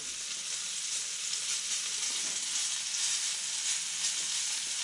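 Mackerel fillets fry in a pan with a constant bright hiss and crackle of hot fat, even and close, without talk.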